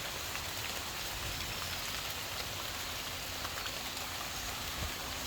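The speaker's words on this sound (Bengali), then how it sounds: "এই যে বৃষ্টিটা বইতেছে, পড়তেছে, আর বাতাসও আছে টুকটাক" Steady rain falls outside a village house during the rainy season, making a dense, even hiss with a light wind blowing. It is heard from indoors at a soft, unbroken level with no voices.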